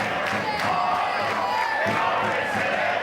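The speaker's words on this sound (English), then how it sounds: "Terenure supporters in great voice." Terenure school rugby supporters shout and cheer at a Leinster Schools final in Donnybrook, a broad crowd roar with whoops and calls rising and falling over a few seconds, with voices throughout.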